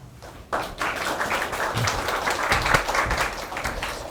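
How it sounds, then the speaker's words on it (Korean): An audience at a food-tech startup forum in Gangnam claps to welcome a presenter to the stage, the applause starting abruptly after a brief quiet and continuing as a steady, moderately loud patter of many hands. "뜨거운 박수로 고은 대표님을 맞이해 주시기 바랍니다"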